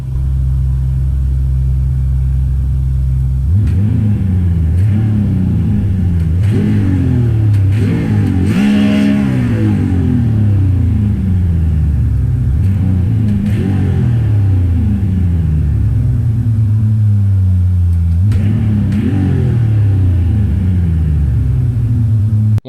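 A BMW car engine in the Assetto Corsa racing game revs repeatedly, rising in pitch through the gears and falling back, loud and continuous with a deep rumble between pulls.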